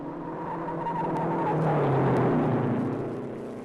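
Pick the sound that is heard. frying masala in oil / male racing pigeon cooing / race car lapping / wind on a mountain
race car lapping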